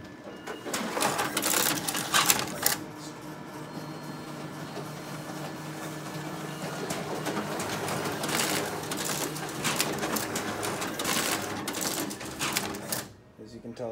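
A Xerox AltaLink B8090 printer feeds paper through its finisher with a steady mechanical whir, rapid clicking and rattling that runs almost without a break for the whole stretch, close and fairly loud, fading out near the end.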